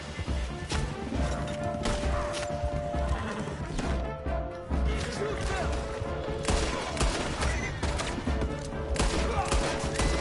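Gunfire crackles in Red Dead Redemption 2 as sharp bursts and volleys ring out during a mounted chase, mixed with horse whinnies and pounding hooves, loud and close, with a voice heard briefly.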